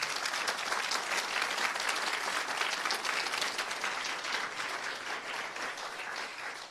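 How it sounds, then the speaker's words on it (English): An audience in a lecture theatre at an RMG talk gives a round of applause, a steady, even wash of many hands clapping that holds throughout and eases slightly toward the end. "If you please give a round of applause."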